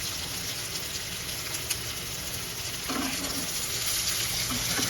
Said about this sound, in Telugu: సో చూడండి ఆల్మోస్ట్ అయితే వేగిపోయింది కర్రీ